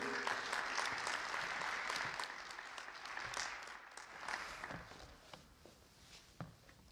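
An audience applauds to welcome Aurora Mayor Richard C. Irvin to the stage at a church event, a steady clapping that slowly thins and fades over several seconds, with no one speaking.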